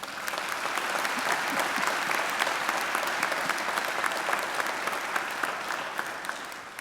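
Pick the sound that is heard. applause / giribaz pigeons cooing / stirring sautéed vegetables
applause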